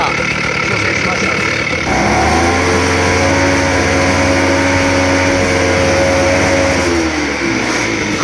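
Spider Mower grass cutter engine running at a steady, well-tuned speed, a loud continuous hum that shifts to a lower, smoother tone partway through, close by with some background noise.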